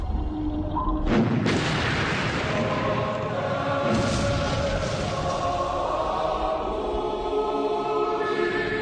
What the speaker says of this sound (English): an explosion equivalent to 200 pounds of TNT rocks the Kursk